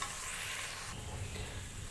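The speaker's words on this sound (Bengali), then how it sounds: "এবার আমি চাল ডালটা মিক্সড করে নিচ্ছি। মিক্সড করে নিচ্ছি, মিলিয়ে নেব।" Rice, lentils and vegetables are stirred in hot oil in a pot for a vegetable pickle khichuri, with a continuous close sizzle and scraping under the stirring.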